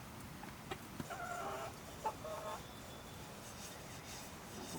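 A rooster in a village clucks in a few short, faint bursts against a quiet rural background.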